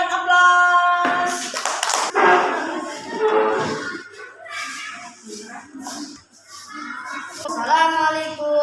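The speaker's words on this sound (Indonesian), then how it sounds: "Sebelum duduk, berikan aplaus." Schoolchildren in a classroom lesson clap for a group before it sits down, a short burst of hand claps between stretches of talking by a teacher and pupils.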